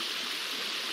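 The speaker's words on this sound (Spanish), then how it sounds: "mira esa cascada" Waterfall in the Minecraft video game, a steady, close rushing splash of falling water, constant and alone without talk.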